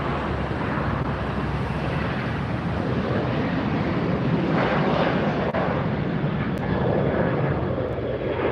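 WestJet airliner departing LAX, a loud steady jet engine roar holding constant throughout at fairly close range, with no voices.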